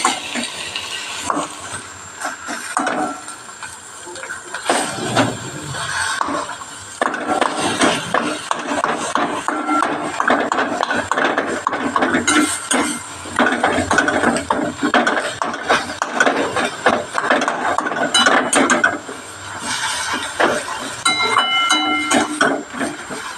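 Half-boiled potato and tomato mash being mixed together in a bowl, a steady, close, squelching and clicking churn that runs continuously with little pause.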